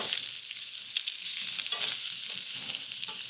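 Food sizzling steadily in extra virgin olive oil in a pan while pieces are flipped, a bright continuous frying hiss with a few soft scrapes and taps, close and alone.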